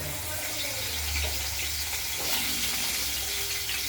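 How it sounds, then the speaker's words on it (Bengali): Potatoes frying in a pan, with a continuous loud hiss and crackle up close and faint stirring mixed into the sizzle. "আলুগুলো একটু লাল লাল করে ভেজে নিচ্ছে"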